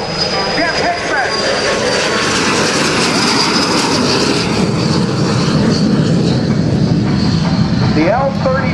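An L-39 Albatross jet trainer flies at the 2009 Rhode Island Air National Guard open house and air show, its steady broadband jet roar loud and continuous throughout, with an announcer talking over it.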